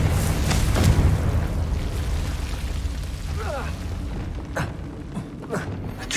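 A Confringo fire spell bursts in Hogwarts Legacy, a loud booming blast near the start followed by lingering rumble and scattered smaller pops, with a voice briefly heard partway through.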